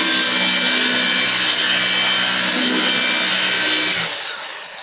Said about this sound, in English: I'm going to do a quick bit of sanding